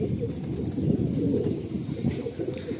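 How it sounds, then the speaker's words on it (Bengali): Pigeons coo inside a breeding loft with several active sections; soft, low murmuring calls overlap continuously at close range, with faint chirps and no talking. "পায়রা সব অ্যাক্টিভ রয়েছে।"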